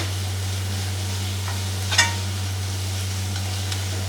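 A spoon stirs a coconut mixture with ground roasted gram in a pan for kolukattai, a soft scraping and faint sizzle over a steady low hum, with one brief sharper scrape.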